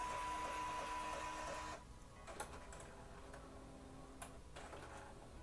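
An Epson L1800 DTF printer runs a maintenance cleaning cycle, humming steadily and close before the motor drops away, leaving quiet mechanical ticks and short clicks.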